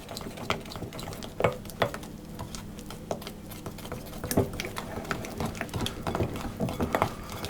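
A spoon works through a thick honey spice batter for Russian pryaniki cookies, with soft, uneven scraping and tapping strokes against the bowl, steady and close.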